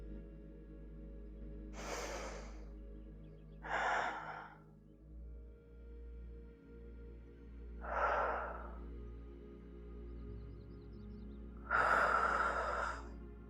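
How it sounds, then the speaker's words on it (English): Four deep, slow breaths during a yoga session, each a soft airy rush lasting about a second, spaced several seconds apart and heard alone in a quiet room. "Let's take 3 deep breaths here"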